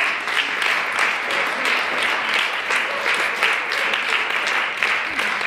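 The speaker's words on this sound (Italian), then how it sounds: "io le farei un grandissimo applauso." Sustained audience applause at a Women's Day celebration, dense steady clapping from a crowd that holds at an even loudness throughout with no speech over it.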